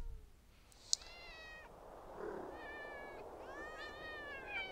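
Cats in the video game Thirty Flights of Loving give a few faint, drawn-out meowing cries with a short sharp click in between, heard alone against a quiet background.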